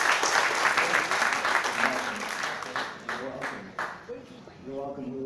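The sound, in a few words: audience applause at a company event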